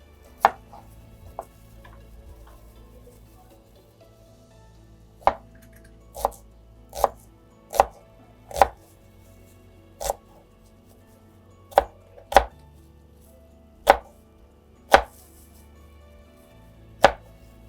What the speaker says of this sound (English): the onions is being chopped